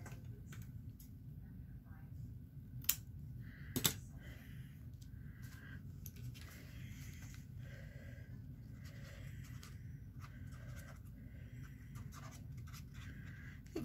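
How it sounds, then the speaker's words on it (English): A paper planner page is cut in half with a handheld tool, giving faint, scratchy slicing strokes with a few sharp ticks over a quiet background. "I'm going to just kind of cut this page in half with this."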